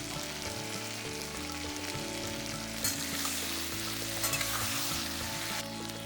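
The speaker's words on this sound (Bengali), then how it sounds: "একটু নাড়াচাড়া করে, আঁচটা ধিমে আঁচে করে একটু নাড়াচাড়া করে নেবেন।" Flat beans fry gently in a pan on low heat while being stirred, making a soft continuous sizzle with occasional scrapes over steady low background tones.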